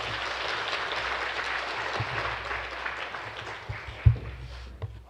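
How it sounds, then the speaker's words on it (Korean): A church congregation at a Sunday afternoon service gives sustained applause to welcome a missionary, a dense wash of clapping that thins toward the end with a few louder claps close by. "크게 환영하면서 우리가 박수로 환영했으면 좋겠습니다"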